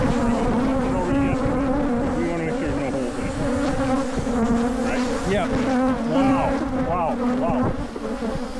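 A swarm of killer bees in a residential area buzzes loudly and continuously, with close wingbeat whines darting past, while people talk briefly over the drone.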